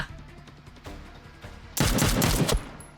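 A burst of rapid automatic gunfire from a tactical shooter video game, loud and dense for under a second after quieter game ambience.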